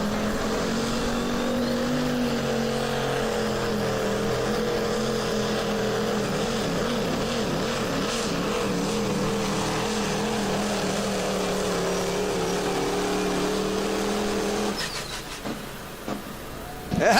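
A Duramax-powered Pro Stock diesel pulling truck winds up its engine at a tractor pull in Baraboo, Wisconsin, a sustained loud droning roar with wavering pitch that rises slowly, then fades near the end amid crowd and outdoor noise.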